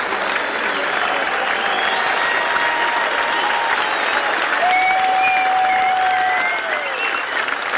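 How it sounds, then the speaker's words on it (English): A large tennis crowd at the 1990 U.S. Open applauds steadily in a dense, sustained roar of clapping with scattered whistles cutting through, filling the whole stretch without letup. "Here comes the tribute as the crowd begins to build."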